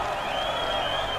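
A crowd applauds and cheers for the president in a video game, a steady dense wash of clapping that holds at an even level through its brief length.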